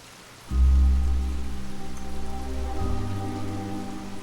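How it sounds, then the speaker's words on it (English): Rain drums steadily on a roof, starting abruptly and continuing as a loud, even downpour under a low tonal drone. "The rain showed no sign of letting up as I made my way to the station."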